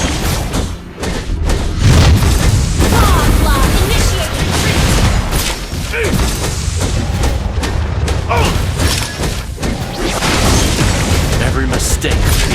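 Turret being destroyed in a Mobile Legends match, a loud, dense stream of game explosions, booms and thuds layered over constant battle effects and music, with voices talking throughout.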